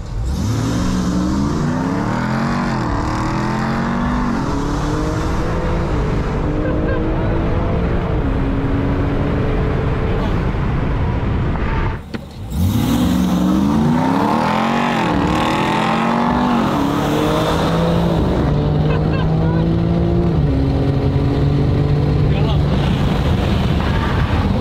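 Supercharged Ram TRX truck and AWD BMW M3 launching from a street stoplight, loud engine roar climbing in pitch through the gears twice, with heavy wind buffeting and voices underneath.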